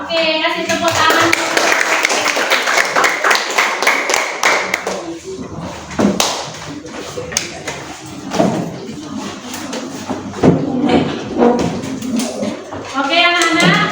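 Schoolchildren in an Indonesian classroom clapping together, a loud burst of dense hand claps that rises and falls over about fourteen seconds, with a teacher's voice and children's chatter mixed in.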